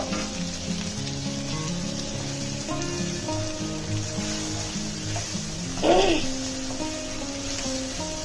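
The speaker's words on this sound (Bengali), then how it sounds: "তারপরে হচ্ছে আমি পানিটা অ্যাড করে দিব" Spices fry in a pan with a steady sizzle, then a brief louder hiss and splash as water goes in, close by.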